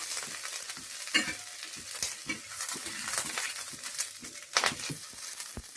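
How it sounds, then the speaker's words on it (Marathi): Masala for a chicken fry sautés in a little oil in a pan, with soft, continuous frying crackle broken by scraping stirs and a few sharper clinks of the spoon, fairly quiet overall. "याला थोडंसं तेल टाकून परतायचं म्हणजे खाली करपणार नाही असं."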